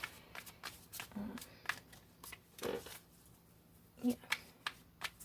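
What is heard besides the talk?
shuffling tarot cards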